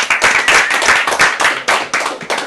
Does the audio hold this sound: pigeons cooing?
no